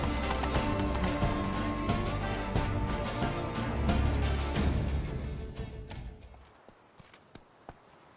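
Horse hooves clip-clopping at a quick pace in The Witcher 3, steady and close under a dense bed of game music, with a possible whinny, then fading out toward the end.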